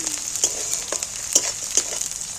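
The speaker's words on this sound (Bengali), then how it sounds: "মশলাটা ভাজতে ভাজতে" Spice masala and onions fry in a pan with a steady bright sizzle, broken by several soft stirring scrapes, close and fairly loud, without any voices.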